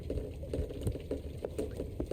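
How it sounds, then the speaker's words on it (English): Steady patter of rain in The Stanley Parable, a dense, continuous wash of falling drops with soft rhythmic thuds, heard close and fairly loud with no talking. "Must be raining a ton."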